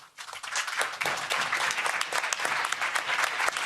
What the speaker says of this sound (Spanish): No applause, please.